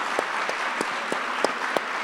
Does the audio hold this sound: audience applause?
yes